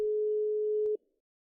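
A single steady electronic phone call tone plays from a phone in a roleplay video game. It holds for about a second, ends with a short click, and leaves silence.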